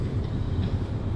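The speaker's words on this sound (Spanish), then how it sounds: "que es un tranvía, es eléctrico" An electric tram on a public transport line in Turkey rolls past with a steady low rumble and a faint airy hiss, fairly loud and close.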